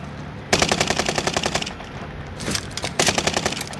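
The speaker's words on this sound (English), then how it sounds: "I was shooting through the wall with this gun I got" Rapid automatic gunfire in an online shooter game fires through a wall in two or three long, loud bursts of close, fast-repeating shots with brief gaps between them.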